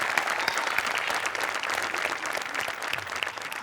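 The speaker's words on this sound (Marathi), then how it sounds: "आज तुझ्या गाण्यासाठी उभं राहून टाळ्या वाजवायला पाहिजे" A studio audience at a Marathi comedy show applauds a sung performance, with dense, even clapping from many hands filling the whole stretch at full strength and no one speaking.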